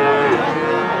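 A single loud, close moo from cattle at a livestock market where calves are sold, a sustained low bellow lasting about a second.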